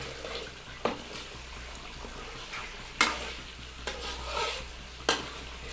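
Chicken sautéed and stirred in a pan, soft sizzling under a few sharp scraping knocks of a spoon against the pan, close and moderately loud, no voices.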